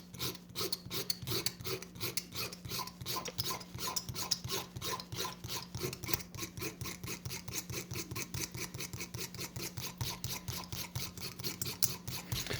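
A sharp single-edge razor blade scrapes rust from the side rods of a Marx double reduction toy train motor, giving a steady rapid rasping stroke after stroke, close and continuous throughout with no talking.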